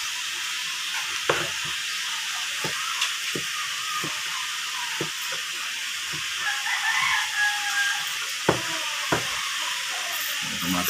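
Tomatoes sautéing in a pan give a steady, moderate sizzle, broken by occasional light clicks of stirring utensils, with a rooster crowing faintly in the background.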